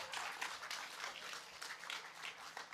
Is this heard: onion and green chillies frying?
no